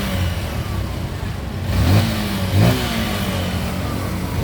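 A car engine in a repair shop in Baclayon, Bohol, Philippines revs up twice from idle after an idle adjustment, short loud surges over a steady running drone.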